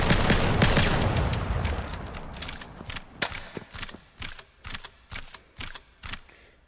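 Rapid gunfire from a gun in the shooter game Vail, a dense burst of shots followed by a string of separate, evenly spaced cracks, each with a mechanical rattle of chambering, loud and close.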